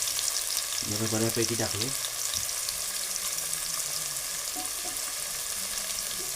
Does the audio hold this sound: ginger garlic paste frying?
yes